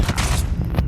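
Pistol shots ring out in a shooting video game, a quick run of three or four loud booming cracks packed into under a second, with no talk over them.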